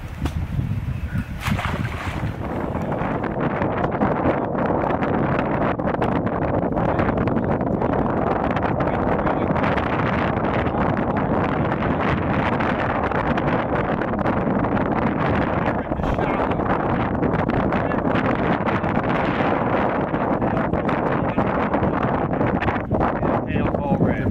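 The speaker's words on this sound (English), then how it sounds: "Wind's blowing into the pads" Steady wind roars over open water beside a bass fishing boat among lily pads on the lower Delaware River in April, a constant loud rushing buffeting the microphone throughout.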